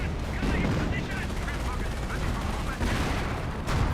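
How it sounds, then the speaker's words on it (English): Artillery and gunfire rumble through a Company of Heroes match, dense booms and rattling shots layered under a caster's voice. "Artillery raining on in."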